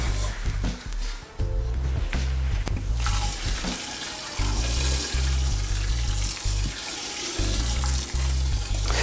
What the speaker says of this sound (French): on va verser notre grain qui est déjà concassé